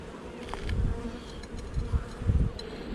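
Honeybees buzzing around a hive being worked with a smoker, a steady swarm drone with individual bees flying past close by, quiet and with no voices.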